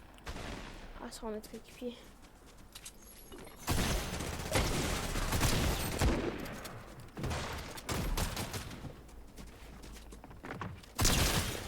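Rapid bursts of gunfire in a first-person video game shooter crackle in dense volleys, with short pauses between them, while someone speaks French over the shooting.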